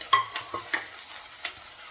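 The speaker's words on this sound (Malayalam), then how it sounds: "ഇതിത്രയും നന്നായിട്ട് വഴറ്റുക." Ginger, garlic, shallots and green chilli sauté in a pan for a fish curry, a soft sizzle under a few short scraping stirs and light taps, close and fairly quiet, with no talking.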